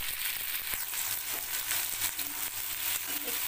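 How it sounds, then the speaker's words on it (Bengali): Okra fries in a pan with a constant loud sizzle, while occasional scraping and stirring clicks rise through the hiss. "একটু ওপর নিচ করে এটাকে ভাজা ভাজা করতে হবে।"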